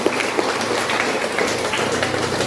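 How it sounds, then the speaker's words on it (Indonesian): A church congregation applauds in a dense, steady wash of clapping that carries on through the whole stretch, loud and close. "Kasih tepuk tangan buat Tuhan Yesus."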